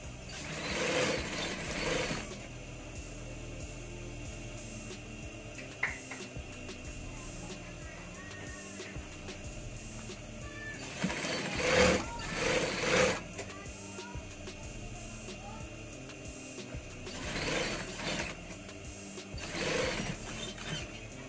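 Sewing machine stitching the hood of an anorak jacket with its lining, running in three separate bursts of rapid whirring stitches with quieter pauses between, faint room noise throughout.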